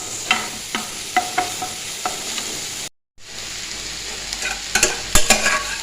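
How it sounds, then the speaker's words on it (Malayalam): Chicken pieces frying in a pan for butter chicken, a steady close sizzle broken by repeated scraping stir strokes, with a brief silent gap partway through and no talking. "ഈ ചിക്കനൊക്കെ ഇട്ട് കൊടുക്കട്ടെ കേട്ടോ വെള്ളം ഒഴിവാക്കിയിട്ട് ചിക്കൻ മാത്രം ഇട്ട് കൊടുക്കട്ടെ"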